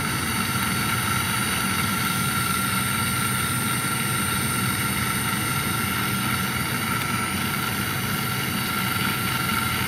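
An electric parking brake caliper motor from a Toyota RAV runs continuously, turning the spindle with a steady whirring drone at a constant level throughout, close up and alone.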